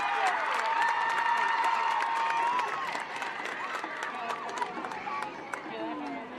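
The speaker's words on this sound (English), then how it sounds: "Let's make some noise for the Bear River Marching Band." Crowd applause and cheering for the Bear River Marching Band at a high school football game against Ridgeline: a dense, steady roar of clapping and cheers that eases slightly after three seconds and carries on to the end.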